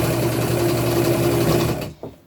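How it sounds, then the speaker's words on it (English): A sewing machine stitches an upcycled tunic, a close steady mechanical whirring chatter that runs continuously and then stops abruptly near the end. "I'm just going to sew this on all the way around"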